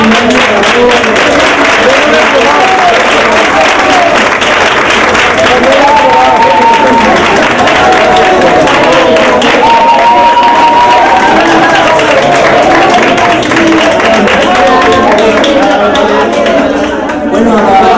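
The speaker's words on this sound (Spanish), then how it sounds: "Un aplauso a todos." Applause from a crowd at a romería gathering for the Virgen de la Cabeza, honouring the kitchen staff, a steady dense wash of clapping mixed with chatter and voices throughout, fading slightly at the end.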